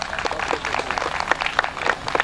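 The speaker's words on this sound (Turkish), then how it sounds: "güçlü bir alkış istiyorum" Applause from a festival audience at the Sokutaş village Sarılık Water Festival, a dense patter of clapping holding steady at moderate volume throughout.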